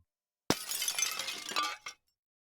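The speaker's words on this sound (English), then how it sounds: "Glass shattered somewhere outside, a chilling sound followed by coarse laughter." Glass shatters in a sudden loud crash that rings into a dense spray of falling shards for about a second and a half, ending with a final small tinkle, heard alone against silence as an audiobook sound effect.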